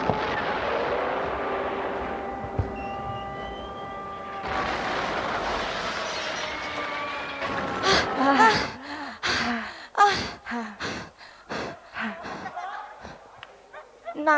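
Sharp, loud booming bombing explosion sound effects burst out one after another during a staged camp performance, over a background of voices and a steady tone, the impacts close and irregular.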